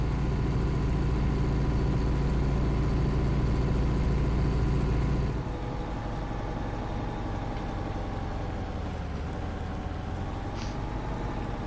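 A Claas tractor engine idles steadily in Farming Simulator 19, a constant low rumble that drops slightly in level about halfway through and continues evenly, with no talk.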